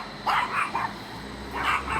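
A dog barks a few times at close range, two quick sharp yaps early and another pair later, over a steady low background hum.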